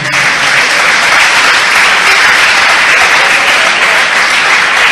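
Loud, dense applause from a church congregation during a Portuguese sermon, a continuous roar of many clapping hands filling the room, steady throughout with no speech.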